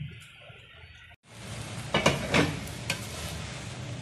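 A spoon stirring chicken and lentils with spices in a cooking pot, soft scraping and gentle sizzling with a few faint clinks against the pot, quiet and close.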